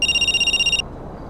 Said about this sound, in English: that's my phone. Okay, I gotta answer that